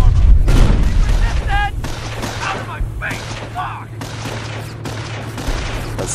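Off-map artillery support fires in Company of Heroes as a dense, loud volley of thumping blasts and crackling shots, with people talking over the barrage.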